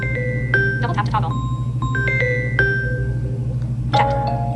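Samsung Classy bell ringtone playing on a phone, a short run of bright chiming bell tones with a tinkling flourish, repeating after a pause, close and clear over a steady low hum.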